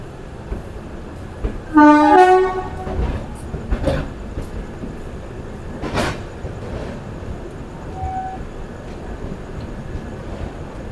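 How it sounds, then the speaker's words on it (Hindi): The Lalkuan Amritsar Express departs platform 2 at Najibabad Junction, a horn sounding briefly before a low rumble of rolling rail cars with occasional clanks and a faint later tone, moderately near. "हमारी ट्रेन डिपार्ट हो रही है नज़ीराबाद के प्लेटफॉर्म नंबर 2 से"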